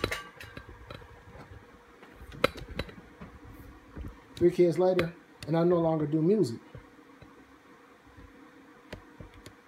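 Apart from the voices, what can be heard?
noise of running network routers and switches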